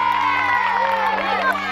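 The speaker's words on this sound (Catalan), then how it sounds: "Un aplaudiment per a ell" A children's audience at a storytelling show cheers and shouts in a dense, steady burst of young voices, close and lively throughout.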